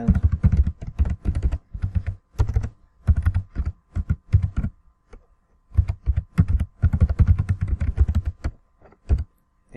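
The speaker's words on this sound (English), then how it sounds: "So I'll type." Typing on a computer keyboard while installing BATM server software, quick clusters of clicky keystrokes in bursts with short pauses, close and clear with no talk.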